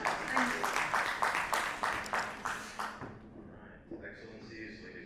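Rhythmic unified clapping from an audience at a business chamber event, steady beats for about three seconds before stopping, then a voice begins speaking.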